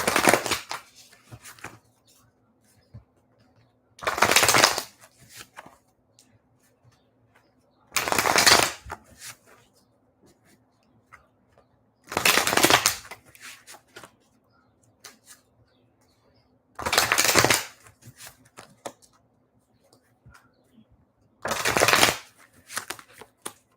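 Tarot cards being shuffled in six short, crisp bursts spaced a few seconds apart, close and clear, with near silence between them.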